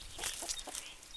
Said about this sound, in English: I see 7 chickens.